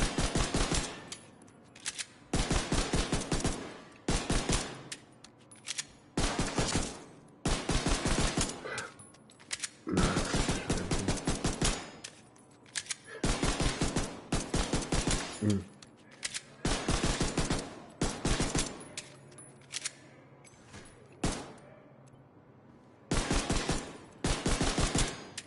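Gunfire in The Division 2 video game comes as repeated loud automatic bursts, each lasting a second or two and separated by short pauses, continuing throughout with occasional quieter gaps.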